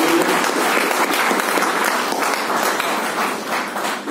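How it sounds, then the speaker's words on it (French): Conference audience at an AI summit applauding the event organizing team, dense continuous clapping filling the hall, steady and loud before tapering slightly near the end. "Mais Léo, vous pouvez les applaudir, l'équipe de Numéum."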